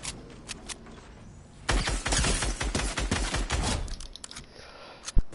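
Gunfire in Fortnite: after a quiet start, a dense burst of rapid shots crackles for about two seconds, trailing into scattered reports and ending with one sharp loud hit.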